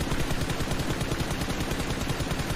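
Scoped automatic gun spray fire in a shooter video game: a dense, unbroken rapid rattle of shots, loud and close, with no pauses.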